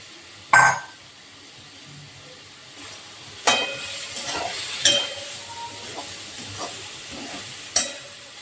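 Soybean and rice hit hot oil and spices in a pan, setting off a soft steady sizzle broken by sharp clanks and scraping as a utensil stirs, close and fairly quiet.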